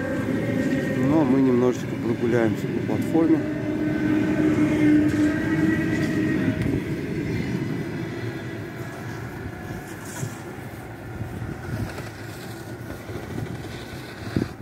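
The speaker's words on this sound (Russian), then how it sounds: "сейчас электричка пошла" Electric commuter train of the MCD D2 line pulling away from Bitsa station platform in winter, a steady rolling rumble that fades gradually, with someone talking over it throughout.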